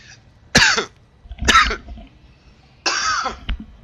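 Three sharp coughs ring out close up, spaced about a second apart, with quiet pauses between them.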